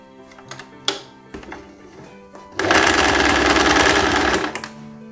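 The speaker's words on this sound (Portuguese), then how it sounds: "a gente vai passar um pês-ponto por cima do revel" Scattered handling clicks and taps give way to a loud, close sewing machine run lasting a couple of seconds as it topstitches over the facing of a blouse with godet sleeves, then it stops abruptly.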